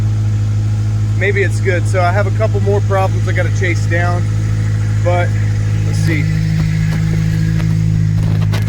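A Honda Civic EJ1 D16Z6 engine idles with a steady low rumble throughout, while someone talks briefly over it.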